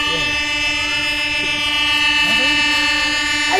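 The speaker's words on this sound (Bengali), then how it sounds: "এই ট্রেন তো ছাইরা দিল" A train pulling out, its loud sustained horn blaring steadily throughout over a low rumble of the rail cars, close and continuous.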